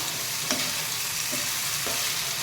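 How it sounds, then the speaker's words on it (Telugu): Chicken is stirred in a pan over high heat, with constant loud sizzling and a few scraping strokes of the spoon through the steady frying hiss. "ఇది బాగా హైలో పెట్టుకొని రెండు నిమిషాలు బాగా కలగబెట్టాను"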